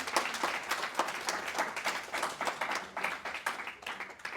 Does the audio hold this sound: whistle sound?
no